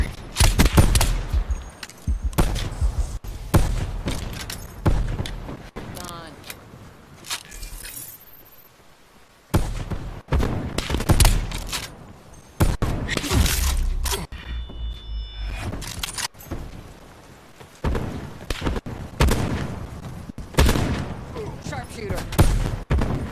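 Sniper rifle shots ring out in a video game, loud sharp blasts amid bursts of other gunfire, with a voice talking between shots.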